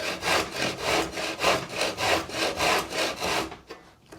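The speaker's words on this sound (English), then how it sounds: "we can start cutting through, making sure that the saw is touching that guide piece at the top" Rhythmic hand saw strokes rasping through wood, about eight even back-and-forth pulls, close and loud, stopping abruptly near the end.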